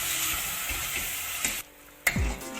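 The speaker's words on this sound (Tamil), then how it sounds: "ஒரு 2 நிமிஷம் நல்லா வதங்கட்டுங்க." Masala for mutton curry sizzling and frying in a pan with spoon stirring and scraping, a short lull, then a clang of the utensil against the pan.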